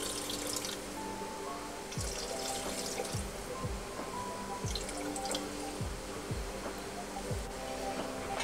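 Water trickles and drips steadily into a Thermomix bowl as 500 grams are weighed out on its built-in scale while cooking a gravy, with repeated drip splashes over a continuous pour.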